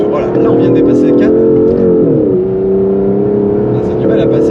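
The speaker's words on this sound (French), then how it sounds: "Je voudrais quand même vous faire écouter l'espèce de folie douce qu'il y a avec cette voiture quand on dépasse les 4000 tours." An Aston Martin DBS engine pulls hard past 4000 rpm, its loud, close note climbing steadily, dipping briefly, then rising again with a rich, throaty drone that fills the whole stretch.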